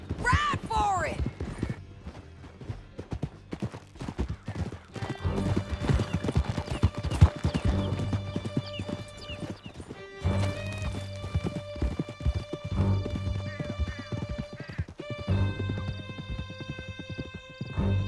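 Horses galloping in Red Dead Redemption 2, a steady, close clip-clop of hoofbeats running throughout, with shouted speech and a whinny over the riding and game music underneath.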